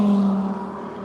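A race car passes on the track at Grattan during the One Lap of America event, a loud, close engine roar with a strong low tone that fades slightly as it moves away.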